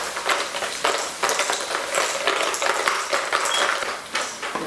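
A utensil stirs pasta in a cooking pot, producing repeated light metallic clinks and scrapes in an irregular rhythm, close and moderately loud.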